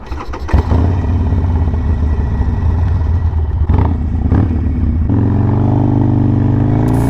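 A Harley-Davidson motorcycle engine idles with a steady rumble, then revs up into a louder, sustained roar near the end; close and loud, no talking.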